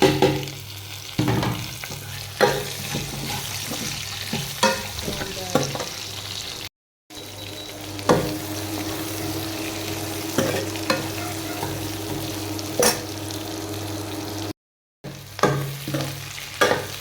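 Onions and garlic fry in a pan for a kadhi curry, giving a steady soft sizzle. Scattered clacks of stirring sound throughout, and two brief dropouts break the sizzle.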